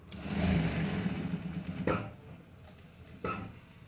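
Sewing machine stitching the lining of a blouse, a steady close mechanical whir with a rhythmic needle patter, stopping and starting with a couple of sharp knocks.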